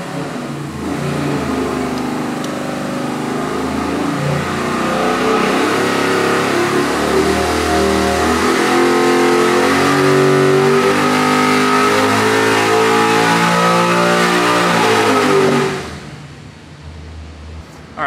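A 441-cubic-inch LS3 V8 with 12.0:1 compression, running E85 at 27 degrees of timing, revs hard through a dyno pull, its loud engine note climbing steadily for about fifteen seconds before cutting off abruptly.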